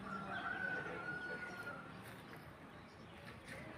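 Chickens cluck and a rooster crows faintly outdoors, with a voice talking over the farmyard background.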